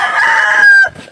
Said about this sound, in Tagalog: Maraming galit is manok. Ha? Maraming manok.